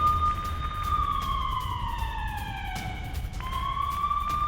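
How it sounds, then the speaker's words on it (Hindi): An air raid alert siren in Amritsar, India wails, its pitch sliding slowly downward before jumping back up to start again, heard alone over faint background hiss. "अमृतसर में लगातार सायरन बजाए जा रहे हैं"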